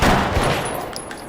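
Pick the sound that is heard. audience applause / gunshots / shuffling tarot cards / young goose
gunshots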